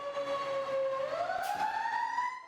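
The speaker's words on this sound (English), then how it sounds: "the truck pulls out of the Elon fire station and the siren sounds" A fire truck siren winds upward in a rising wail as the truck pulls out of a fire station, steady and moderately loud, with faint road noise underneath.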